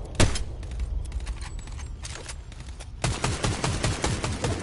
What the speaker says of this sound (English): I'm gonna shoot them down.